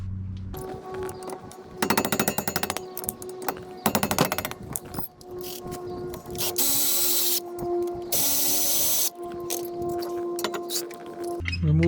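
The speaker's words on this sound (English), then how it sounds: "Removing the caliper, there's two bolts, one here and one here." Brake caliper bolts coming off a 2005 Toyota Camry: two bursts of a rapid ratcheting rattle from a power tool, followed by longer harsh whirring spells, close and fairly loud.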